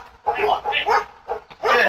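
A dog in a backyard barks in several sharp, loud bursts while charging at a delivery driver, with a voice also present.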